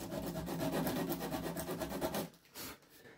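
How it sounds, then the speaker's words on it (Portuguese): Hand sanding of wood with a small piece of coarse 50-grit sandpaper wrapped on a wooden block: steady rapid back-and-forth rasping strokes for about two seconds, then a few separate scrapes, close up with no talking. "vou pegar um pedacinho de lixa 50 com um apoiozinho de madeira e vou lixar esse excesso aqui"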